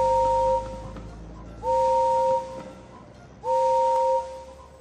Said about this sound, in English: Now, pick the whistle that sounds like Gordon's.